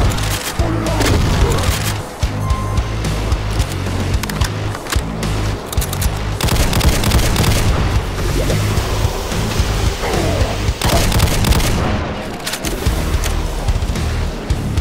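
Chaingunner and shotgunner enemies fire in Doom 2 with the Project Brutality mod, on the map Hell Mountain. Dense, loud gunfire and booming blasts roll almost without a break, forming a heavy, chaotic barrage with only brief dips.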